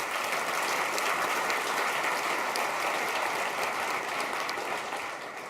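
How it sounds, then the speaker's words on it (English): A keynote audience at Autodesk University London gives a final round of applause, a dense, even wash of clapping that carries on for several seconds before easing slightly at the end. "Let's give them a final round of applause."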